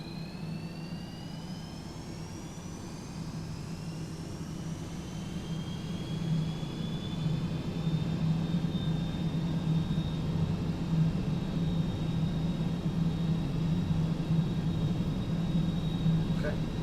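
A Boeing 737-200 in the X-Plane flight simulator spools up its jet engines for takeoff, a steady low roar with a thin rising whine that swells gradually and holds. Faint talk sits underneath.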